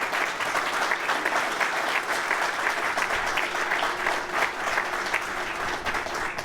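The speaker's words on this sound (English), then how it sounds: "I think he deserves a rousing round of applause." An audience at a redevelopment and preservation project event breaks into sustained applause, dense steady clapping from a sizable crowd heard close and continuous throughout.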